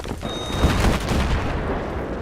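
A burst of rapid gunfire in the video game Battlefield 3, loud and close, with dense overlapping shots and a brief high electronic tone early on.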